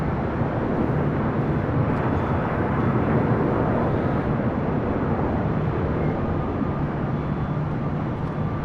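A landing airliner arrives on runway 24 right at LAX, its broad, steady jet roar filling the clip from start to finish at close range.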